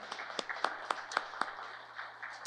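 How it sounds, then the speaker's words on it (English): Sparse, faint applause from a small audience at a supply chain resilience plenary event, a scattering of separate hand claps at an uneven pace with no talk over them. "give us one more round of applause for all those who are involved with this"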